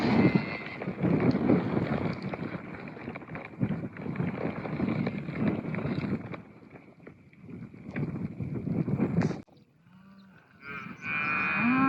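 Cattle, cows with their calves, out in a field of tame grass during a move to new pasture, with lowing amid steady wind buffeting the microphone and a brief calf-like call near the end.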